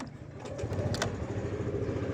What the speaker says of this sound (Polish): jak to Honda odpala na dotknięcie, chodzi bez zarzutu